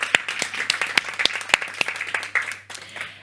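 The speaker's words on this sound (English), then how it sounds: "let's have a final resounding round of applause." An audience at a competition awards closing gives a short round of applause, sparse individual claps standing out over softer clapping before it tapers off.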